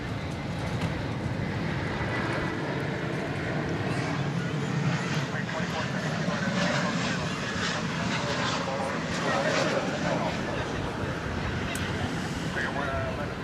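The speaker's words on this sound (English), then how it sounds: "That was a Frontier flight 2632 coming in from Denver" Frontier Airlines flight 2632 from Denver arrives at DFW Airport, its jet engines a continuous broad roar that stays steady throughout, with a voice talking faintly beneath the engine noise.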